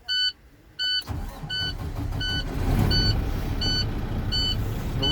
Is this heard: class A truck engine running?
yes